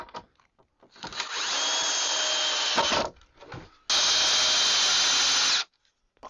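A power drill drives screws into a 2x4 on the ground while attic shelving is built: two sustained high whirring runs, about two seconds each, separated by a brief pause, close and loud.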